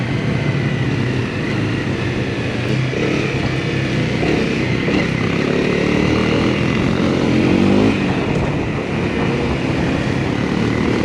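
A Kawasaki KLX 140G dirt bike rides at low RPM along a smooth forest trail, its engine a steady, close, continuous drone that holds an even pitch with only slight swells and no talk.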